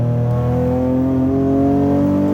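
BMW E30 with a swapped S54 engine revving, a loud steady harmonic engine note rising gradually in pitch, heard close and alone.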